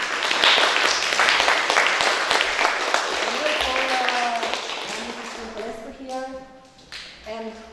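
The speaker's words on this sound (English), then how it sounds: "So let's give them once again a round of applause." Audience applause for the Aspire2Inspire forum theatre troupe, lively clapping that gradually tapers off as voices start talking over the dying claps.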